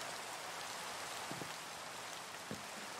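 Rain falls steadily in the block-building game Minecraft, a soft, even hiss with a few faint drips, quiet and continuous with no voices.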